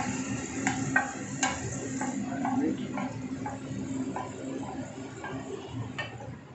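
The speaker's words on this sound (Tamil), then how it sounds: "பார்த்தீங்கன்னா பீட்ரூட்டை வாட்டரோடு சேர்த்தாச்சு." Beetroot is added to water in a cooking pot with cumin, giving soft stirring taps and clinks against the pot over a low, steady simmer. A voice talks quietly in the background.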